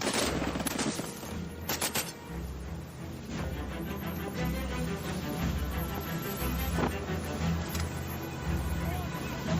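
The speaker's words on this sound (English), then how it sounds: "Our soldiers return fire with all available weapons." Soldiers on boats fire back at an attacking aircraft with every available weapon near oil drilling platforms off Crimea. Bursts of gunfire and rumbling engine noise sit under a steady voice that talks throughout.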